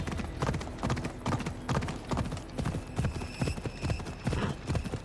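Steady clip-clop of horse hooves in an even walking rhythm, close and fairly loud, with a faint background hum, in the video game Assassin's Creed Odyssey.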